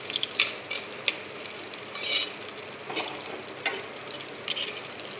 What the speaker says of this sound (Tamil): கட் பண்ணி வச்ச சின்ன வெங்காயம் போட்டுக்கோங்க. இப்போ நல்லா வதக்கி விடுங்க.